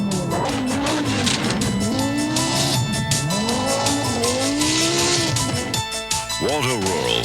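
An Audi Quattro race car on the Pikes Peak hill climb revs and shifts through rising and falling engine whines under steady narration. The engine is loud, and a sharp rev sweeps up near the end.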